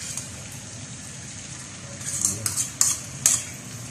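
A sauce mixture of oyster sauce, barbecue sauce, seasoned vinegar, sugar and pepper goes into hot oil in a pan for sisig, giving a steady hiss with several sharp splattering crackles near the end and no talking.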